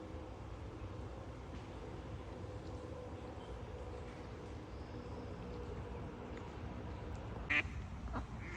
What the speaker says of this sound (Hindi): यहाँ बहुत सारी बतखें हैं, तो मैं ढूंढ रहा हूँ इन्होंने अंडे कहाँ दिए हैं।